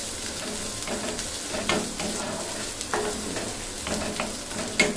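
Restaurant-style chicken bhuna fries over a lowered flame while being stirred in a pan, giving a steady close sizzle with periodic scraping stir strokes and no talking.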